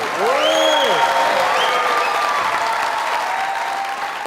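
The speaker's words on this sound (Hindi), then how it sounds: "आप लोगों की ढेर सारी तालियों में" Audience applause rises for a glamorous actress's entrance at a comedy night show, sustained loud crowd clapping with faint musical tones and a brief whoop over it.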